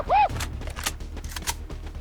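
Rapid, muffled gunfire in a video game, with quick bursts of sharp cracks at a fairly steady rhythm and a brief tonal whistle at the start.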